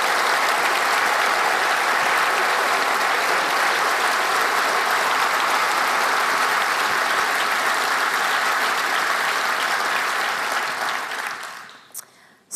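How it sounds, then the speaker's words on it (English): Sustained audience applause fills a school award ceremony for Eastlands Primary, loud and dense for about eleven seconds before fading out near the end. "I think everyone should give a big round of applause to Eastlands Primary"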